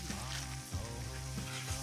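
Dried chilies sizzle and crackle loudly in hot soybean oil with chili bean paste and Sichuan peppercorns, a close, steady frying hiss with light stirring.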